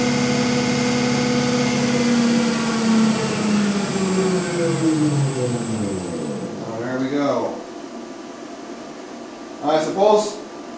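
An electric motor in an EV conversion spins a ZF automatic gearbox and prop shaft at high speed. It gives a steady, loud, layered whine that winds down in pitch partway through, followed by brief bursts near the end.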